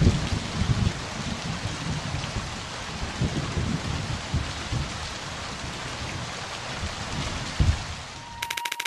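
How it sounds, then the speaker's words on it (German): Steady heavy rain pours down through a thunderstorm, with deep rumbles of thunder rolling underneath throughout and a sharp thunder crack near the end, the downpour loud and continuous with no talk. "Wenn der Wetterbericht teilweise Regen versprochen hat und sich nicht getäuscht hat."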